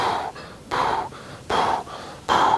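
A patient breathes in slow, audible cycles during back exercises in a physiotherapy practice, with four airy breaths spaced about three-quarters of a second apart, close and fairly loud with no talking.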